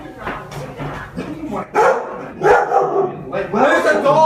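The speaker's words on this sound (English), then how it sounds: "Where's the dog?" A dog barks several times amid overlapping voices of people talking and reacting close by in a basement.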